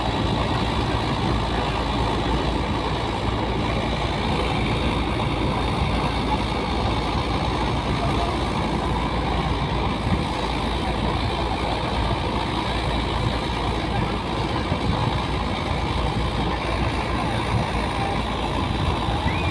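A motorized wooden boat turning on a river near the Rooppur power plant gives a loud, steady engine drone that runs unbroken from start to finish, with no talking over it.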